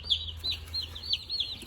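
Young chickens in a brooder give a steady run of high, repeated cheeping peeps, fairly close, over a low constant hum.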